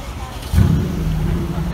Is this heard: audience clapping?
no